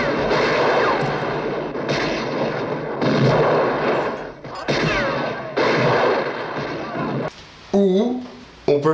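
Western film shootout: heavy gunfire booms and cracks in repeated bursts, loud and close, with shouting voices toward the end.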